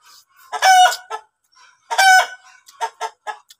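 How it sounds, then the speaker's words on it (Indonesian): Chicken in an Indonesian village, two loud close clucking bursts followed by several shorter clucks, with brief quiet gaps between calls. "Ada ayam, guys."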